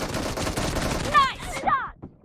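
Gunfire in PUBG Mobile team deathmatch: two sharp, close shots about half a second apart cut through a steady bed of game noise, each with a quick ringing tail.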